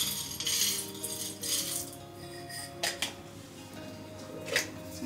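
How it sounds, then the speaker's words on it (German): Scattered clinks and light rattles of seeds roasting in a pan, with a few sharp taps standing out over a low steady hum, fairly close. "die Kerne, bevor wir was damit anstellen, rösten wir ein wenig in der Pfanne an"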